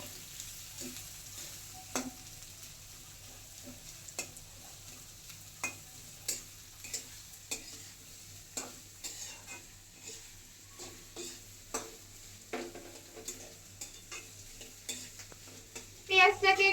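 A large batch of onions frying in a pan makes a faint sizzle, punctuated by regular light clicks and taps of a stirring spoon against the pan, with a brief louder clatter at the end.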